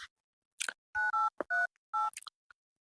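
Several short bursts of DTMF keypad tones ring out in quick succession as a phone number is punched in, clear and isolated with brief gaps between presses and no voices.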